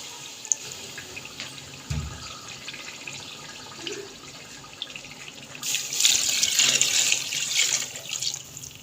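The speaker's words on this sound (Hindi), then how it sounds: "इसके अंदर मैं वही पानी डाल दूँगी" Rice-soaking water pours into a cooking pot for vegetable pulao, a soft trickle at first, then a loud splashing gush that continues for several seconds before easing off, with a thump of the pot near the start.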